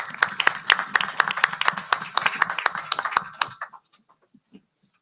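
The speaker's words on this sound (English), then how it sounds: "Can we give this young lady another round of applause?" A modest audience at a Ward 7 council candidate forum claps for a candidate, with distinct, sharp individual claps in a lively patter for about three seconds before stopping abruptly into near silence.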